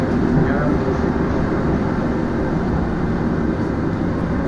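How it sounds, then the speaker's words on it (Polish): Inside a moving train carriage, a steady, loud rumble and rolling drone runs without a break, with low mechanical noise throughout. "Jedziemy pociągiem, nie wiadomo gdzie."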